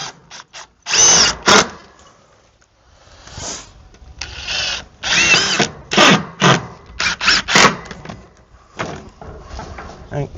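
A power drill drives a screw into wooden deck railing, with several loud whirring bursts of varying length separated by short pauses, close by.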